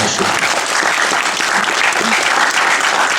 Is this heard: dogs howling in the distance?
no